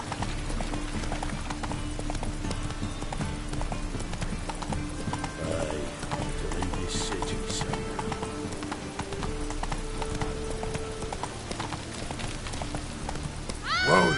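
Roach the horse gallops in The Witcher: Wild Hunt, hooves clip-clopping in a steady fast rhythm throughout, with faint voices and a brief whinny-like sound near the end.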